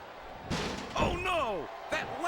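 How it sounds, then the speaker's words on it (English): In a PS2 WWE wrestling game, a steel chair shot lands as a loud metallic slam amid crowd noise, followed by ringing, a voice calling out and another thud. "Did you hear that chair shot, JR?"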